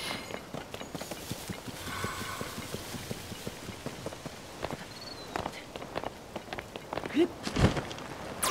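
Rain falling in Zora's Domain in the video game Zelda: Tears of the Kingdom, a steady soft patter with light footstep-like taps and a few brief game effects near the end.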